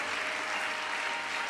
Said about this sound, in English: Give him a hand clap that he's worthy of right now.